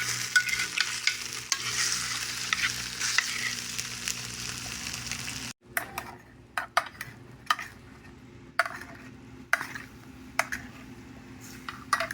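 Barbecue jerk food being stirred and mixed in a pan, a steady sizzling scrape for several seconds, then quieter stretches broken by a handful of sharp spoon knocks and scrapes at uneven intervals.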